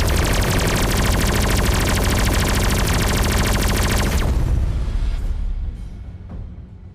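Weapons firing in the space game Everspace 2, a loud, dense, unbroken stream of rapid shots that cuts off after about four seconds and leaves a fading rumbling tail.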